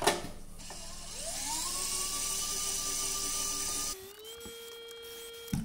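An electric screwdriver whirs up to speed and drives out 3 mm screws from a 3D printed case, a steady high motor whine lasting several seconds that then shifts pitch as the screw comes free.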